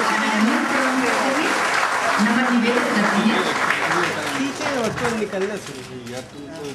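Strong applause from an audience greets the lighting of a ceremonial lamp at a cabinet meeting event, steady clapping throughout while someone speaks over it.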